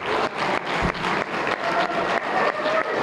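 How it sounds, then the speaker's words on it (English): Steady crowd applause fills a gala hall at a Chamber of Commerce awards dinner, dense clapping sustained for a few seconds with slight dips and a brief low thump, loud and close. "Let's give them all a big round of applause"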